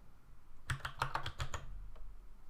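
A quick burst of about half a dozen crisp computer keyboard keystrokes while code is typed, close and fairly quiet, followed by a single later tap and near silence.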